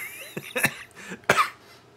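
A person coughs several times in quick, close bursts, a few short hacks followed by a stronger, harsher cough near the end.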